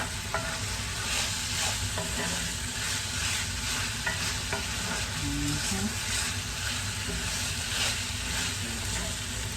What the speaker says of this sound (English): I just want to make sure everything is mixed evenly and that the peppers and onions get a chance to like soften up.